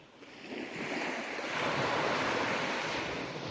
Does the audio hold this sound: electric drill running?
no